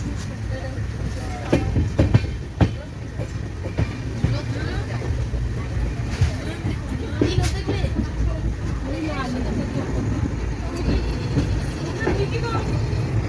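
The Puri–Sealdah Duronto Express rumbles steadily along the tracks through Khurda Road Junction without stopping, with occasional clattering knocks, and voices talk over the continuous noise.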